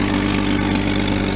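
A 600 daily-driver car idles loudly and steadily with a massive exhaust manifold leak, giving a constant, rough, throbbing drone close by, with no talking.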